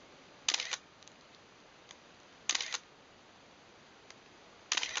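Three quick, crisp mechanical shutter clicks from a Nikon F4 camera at 1/8000th of a second, evenly spaced about two seconds apart, close and sharp against a quiet background.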